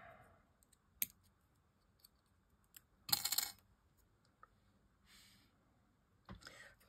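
Scissors snip through a gummy candy in a few crisp, separate clicks and one louder cutting burst, all close and quiet.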